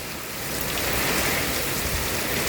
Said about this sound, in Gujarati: બહુ જ સરસ પવનની હારે વરસાદ ચાલુ થઈ ગયો છે